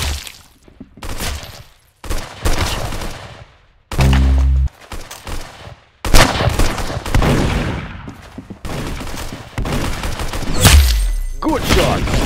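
Gunfire in the video game Arsenal: repeated bursts of shots and heavy fusillades come in uneven clusters, loud and close, with short gaps and a deep thumping hit in between.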